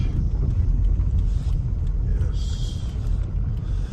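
A car driving along a rough wadi road, with a continuous heavy low rumble of engine and tyres and some wind buffeting, with no talk.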